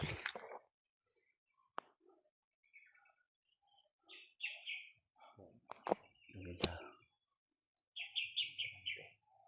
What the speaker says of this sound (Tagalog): May uwak, may uwak, may uwak.